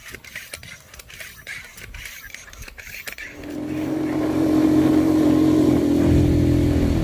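A motorcycle engine starts up close by on a farm road in Dacdacanan, San Joaquin, its steady, buzzing drone swelling louder after a few seconds and holding strong to the end.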